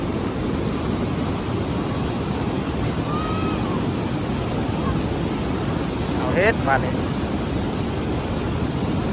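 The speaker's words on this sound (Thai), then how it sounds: "น้ำหลากน้ำไหลพี่น้อง" Water flowing off the roof of a newly built house in steady, hissing rain-like noise throughout, with someone speaking briefly over it.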